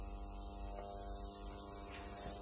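A 40,000-volt high voltage transformer running from a single ballast hisses steadily while leaking current to ground, a constant electrical hum and buzz with faint static, close and continuous with no talking.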